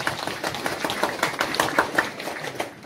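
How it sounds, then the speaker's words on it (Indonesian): A crowd claps for a group of vocational school students after their performance at a priest's anniversary gathering, loose scattered hand claps with distinct sharp individual hits, moderately near and steady throughout. "tepuk untuk mereka"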